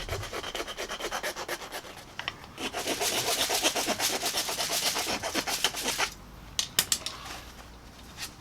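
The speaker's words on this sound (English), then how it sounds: "Now I'm going to use the rat tail file and make the" A rat tail file shapes nocks on PVC bow limbs, rasping in quick repeated back-and-forth strokes, close and steady, then slowing into a few separate scrapes near the end.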